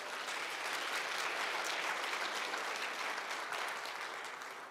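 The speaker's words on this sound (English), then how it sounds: "Please applause." Audience applause at a battery storage product launch event, a broad sustained wash of many hands clapping, steady and fairly distant, fading slightly toward the end.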